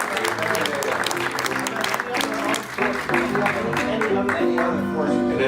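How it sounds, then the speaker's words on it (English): An indoor audience applauds steadily, a dense wash of clapping that holds loud and even throughout, with a few voices mixed in underneath. "Will everyone please give a round of applause to these gentlemen?"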